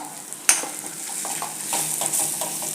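Bitter gourd is stirred with onion-garlic masala and turmeric in a pan. A sharp clack of the utensil comes first, then a soft sizzle with light scraping strokes, close and brief, with no speech.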